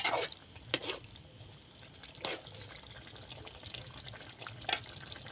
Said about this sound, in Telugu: ఇప్పుడైతే బాగా కలుపుకోవాలి అన్నిటికి పట్టేటట్టు.